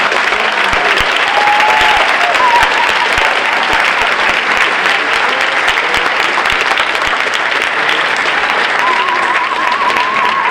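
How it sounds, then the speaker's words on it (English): Dense, loud round of applause from a school audience at an eighth grade step-up night, continuous clapping for about ten seconds with a few faint voices and whoops underneath. "I would like to take this opportunity to hope that you'll join with me in a round of applause"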